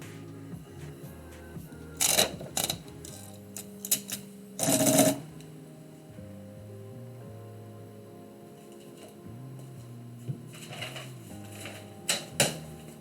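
Manual typewriter keys strike in scattered short bursts and clusters while poetry is typed, with louder clacks and a carriage-like rattle standing out over a faint, steady background hum.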